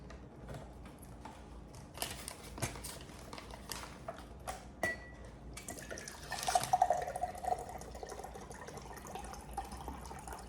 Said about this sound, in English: let me pour some of the water from the canteen in there.